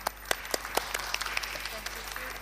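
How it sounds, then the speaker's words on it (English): Scattered claps from a small session audience thanking the speakers, sparse and fairly faint, with a handful of distinct hand claps over a low steady hum rather than a full ovation. "Maybe a round of applause for all the speakers."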